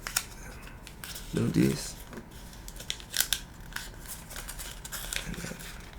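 Paper folds for an origami walking aeroplane give soft crinkles and a brief sharp crease rustle, close-up under quiet speech.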